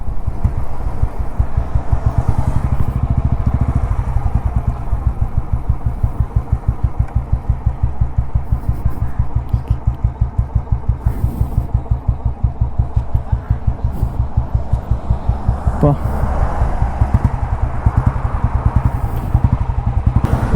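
A diesel Bullet motorcycle engine running, a loud, close, rapid and evenly paced thumping beat with mechanical clatter that continues unbroken throughout.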